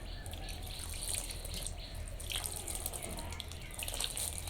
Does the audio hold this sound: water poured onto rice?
yes